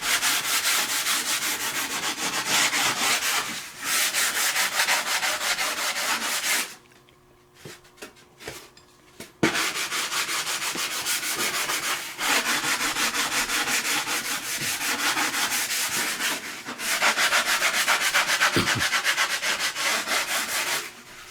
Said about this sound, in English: Next up is the 80 grit, which smooths everything out a little more flat.